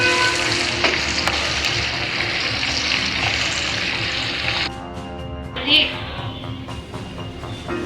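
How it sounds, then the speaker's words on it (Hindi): Sliced onions sizzle and crackle steadily in hot ghee, a dense bright frying hiss with a brief clink near the end. "प्याज फ्राई हो चुकी है।"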